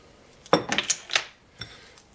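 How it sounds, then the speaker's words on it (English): A utensil clinking against a bowl or pan while soy sauce is mixed into a vegan patty mixture, several sharp metallic chinks in a quick irregular cluster, then one softer clink after a pause. "I'm just going to mix that in."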